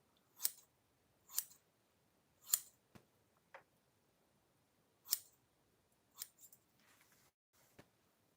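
Scissors snipping through layers of hair, about eight crisp, close snips coming in an irregular rhythm with short pauses between them, heard alone in a quiet room.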